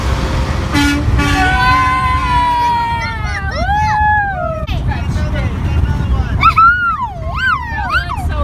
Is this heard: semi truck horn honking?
yes